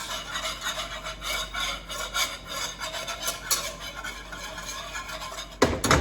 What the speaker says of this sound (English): just stirring it right above the flame